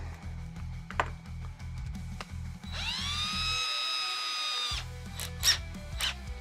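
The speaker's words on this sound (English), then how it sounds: "Drill a hole right through my desk." A power drill bores through a desk, whining up to a high, sustained rising pitch for about two seconds, then stops, with clicks and knocks of handling before and after; it is close and moderately loud.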